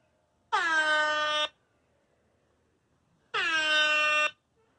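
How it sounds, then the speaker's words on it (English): Two loud, sustained blasts of an air horn sound effect, each lasting about a second with a clear gap between them, heard alone with no talking. "now we're going to do air horns."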